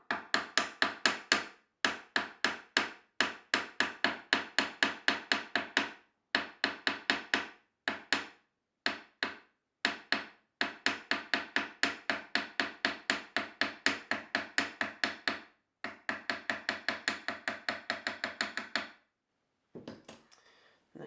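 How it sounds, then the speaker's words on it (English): Rapid, steady hammer blows flattening the end of a wire, dozens of sharp taps in quick rhythmic runs separated by short pauses, close and clear with no talking. "I'll take that end and flatten it with a hammer"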